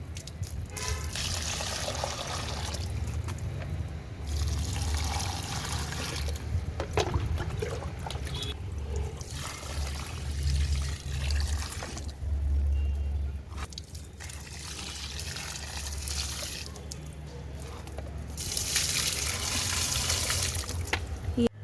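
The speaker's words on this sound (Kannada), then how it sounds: "ನೀರು ಹಾಕ್ಬಿಡೋಣ ಇವಾಗ, ಬೇಗ ಬೇಗ" Water pours and trickles onto garden plants in a hurried watering, a splashy flowing stream that comes and goes in bursts over a steady low background hum.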